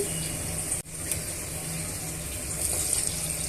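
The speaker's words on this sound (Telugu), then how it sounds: "ఇప్పుడు మనం ఇందులోనే తగినంత వాటర్ని యాడ్ చేసుకోవాలండి" Water pours steadily into rice in a pressure cooker for Hyderabadi bagara rice, a continuous close rushing splash with a brief break near the start.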